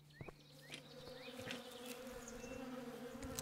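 Bees buzz steadily in the survival game Above Snakes, a sustained drone with a few short chirping calls at the start and faint clicks scattered over it, no voices.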